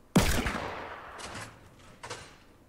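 A gunshot from a blue revolver in the video game Fortnite, one sharp loud report followed by a decaying tail and a fainter second burst about two seconds later.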